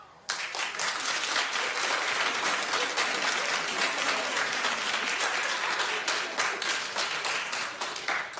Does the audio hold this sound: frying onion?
no